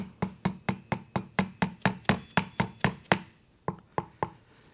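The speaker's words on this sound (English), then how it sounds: "I like to use a soft-faced dead blow hammer" A soft-faced dead blow hammer taps a wheel bearing into place steadily about a dozen times in an even rhythm, close by, then pauses before a few lighter, quieter taps.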